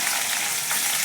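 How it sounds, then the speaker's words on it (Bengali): Pieces of eggplant fry in hot oil with mustard oil tempering of green chilli and nigella seeds, a steady close broadband sizzle holding at an even level throughout the short stretch. "ভালো করে বেগুনগুলো ভেজে নেব"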